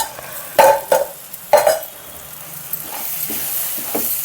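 Chili powder being stirred into moong dal with ponnaganti leaves as it fries, a few sharp spoon-on-pan scrapes and clinks over a low sizzle, close and fairly loud, then quieter mixing with no talking.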